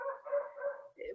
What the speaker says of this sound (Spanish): Ay, lamento mis perros.